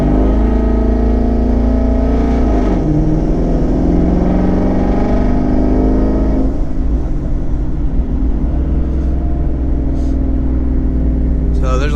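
A twin-turbo 2019 Ford Mustang GT being driven, a loud steady engine drone close up with gear shifts and rising revs, a voice talking over it at times.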